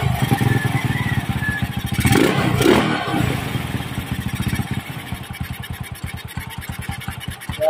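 A motorcycle engine running at dusk, loud and close with a rough rapid pulsing putter, a brief clattering rev in the middle, then settling into a steady idle.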